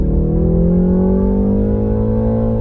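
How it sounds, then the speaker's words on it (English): Loud, close engine drone from a 2019 BMW 3 Series accelerating, with smooth harmonic tones rising steadily in pitch inside the cabin, and no talking over it. "You do hear a lot of engine noise."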